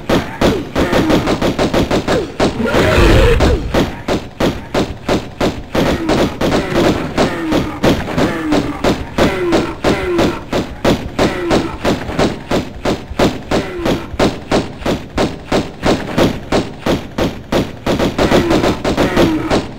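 Pistols fire in Tomb Raider 1 Remastered, shot after shot in a fast, steady rhythm for the whole stretch. The shots are loud and close, with a heavier burst early on.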